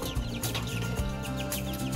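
Chicks in a brooder cheep and peep in quick repeated calls, close and busy, overlapping one another with no talking.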